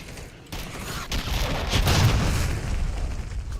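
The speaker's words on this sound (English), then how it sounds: "Friendly cruise missile deployed." A cruise missile strike in Call of Duty Modern Warfare lands with sharp cracks followed by a deep, rolling boom that swells and rumbles for a few seconds, loud and close.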